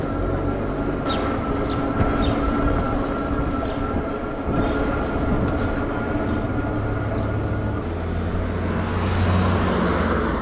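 The Driving Creek Railway, a small scenic railway, rumbles steadily along with a continuous rolling roar and faint metallic squeals and clicks, close and loud throughout with no talk.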